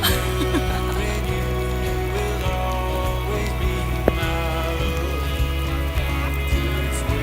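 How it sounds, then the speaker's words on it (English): Steady rain falls nearby and fills the whole clip with an even, dense patter and hiss that never stops. "raining right now"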